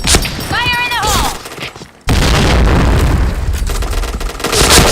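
A grenade blast in a shooting video game: a shouted voice first, a brief drop to near silence, then a sudden loud boom that rolls into dense, sustained gunfire and rumble for the rest of the moment.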